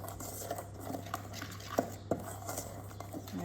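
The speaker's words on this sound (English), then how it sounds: "so give it a stir after the sugar's been incorporated" A spoon stirs sweetened batter in a mixing bowl, quiet scraping with a few sharper clinks against the bowl over a low steady hum.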